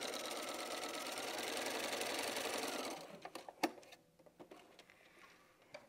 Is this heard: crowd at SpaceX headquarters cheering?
no